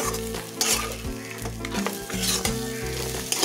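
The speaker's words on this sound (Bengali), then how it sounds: "পেঁয়াজের সাথে আর মশলার সাথে আমি ভালো করে টেংড়িগুলোকে আমি মিশিয়ে নিচ্ছি, কষিয়ে নিচ্ছি" Mutton leg pieces sautéed with onion and spices in a pan without water, with a steady strong sizzle and rhythmic scraping strokes of a spatula stirring the meat up close.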